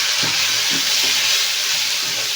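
Sliced onions fry together with urad dal and chana dal in hot oil, a steady close hiss and sizzle with a few soft stirring taps.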